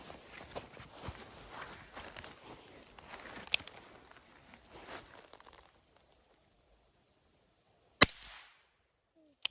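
Two sharp, isolated cracks of Flobert rifle fire from an Alfa 440 shooting Silver Bullet pellets at about 7 metres ring out after a stretch of shuffling and footsteps, followed by a faint click.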